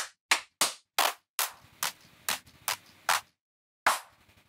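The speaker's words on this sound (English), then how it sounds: "I'm going to add a tiny clap there because I think there's a little clap that comes in" Layered electronic clap samples hit in a punchy rave pattern, crisp single snaps with short reverb tails separated by gaps, over a faint low synth underneath.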